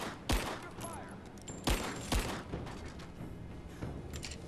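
Gunfire in the video game Rise of the Tomb Raider comes as a few sharp, loud shots spaced about a second apart over a rumbling game background.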